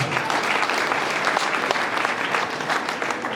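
Audience applause fills a hall at a community youth-centre event in Gasabo district, a dense, steady clapping from many hands that stays loud and even for the whole stretch.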